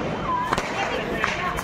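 Whistling rockets and sharp crackling firecracker bursts sound amid festive Diwali noise and voices in Jaipur, with pops around the middle and end.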